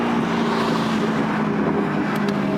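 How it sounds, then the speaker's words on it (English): A Camaro fitted with an MBRP cat-back exhaust pulls hard in first gear, its engine roaring loud and steady at close range throughout the short burst, with wind rush mixed in. "We'll do a first gear pull"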